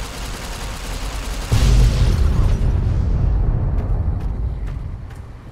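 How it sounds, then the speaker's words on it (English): A Fat Man nuke detonates in the video game Fallout: New Vegas, a sudden massive boom with a deep rumbling roar that slowly fades, alone without talk. "It's basically a Fatman explosion."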